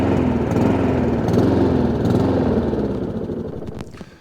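Honda IZY petrol lawn mower engine running rough with a dirty carburetor, a loud close uneven drone that fades and sputters out near the end.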